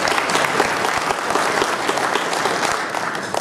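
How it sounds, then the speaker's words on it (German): Fans give a sustained round of applause at a Schalke supporters' meet-up in Herten, a dense, steady wash of clapping from a sizeable crowd that carries loud and even throughout with no talk over it. "müssen wir aber erstmal Winnie Kuhnert und seinem ganzen Team einen dicken Applaus spenden"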